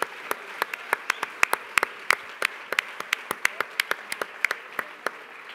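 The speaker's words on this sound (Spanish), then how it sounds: "Un aplaudiment per totes" Applause at the Premis Ones Mediterrània 2022 awards ceremony comes from a small audience, sparse distinct claps ringing out close and crisp in an irregular patter.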